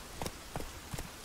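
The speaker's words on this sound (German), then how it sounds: "Und jetzt reiten wir wieder mit dem richtigen Pferd." Horse hooves clip-clop at a steady pace while riding in The Witcher 3, four distinct hoof strikes spaced evenly over a low game background, fairly quiet and close.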